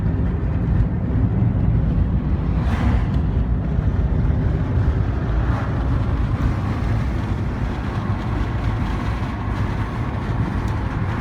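Strong wind on a mountaintop near wind turbines roars steadily against the microphone, a dense continuous rumble with no voices.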